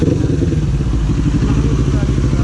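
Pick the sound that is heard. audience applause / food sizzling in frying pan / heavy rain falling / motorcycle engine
motorcycle engine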